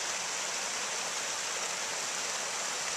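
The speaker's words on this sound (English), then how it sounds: "Well folks, we finally made it to the river." A mountain river rushes steadily nearby, a dense, continuous broadband roar of flowing water with no pauses and no voices.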